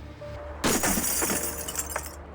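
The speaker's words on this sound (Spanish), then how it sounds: "utilizaron la poderosa garra del robot para romper el vidrio" A powerful robot claw smashes through dark-tinted window glass during a police standoff, a sudden loud crash with a bright sustained shatter and tinkling fragments continuing for over a second.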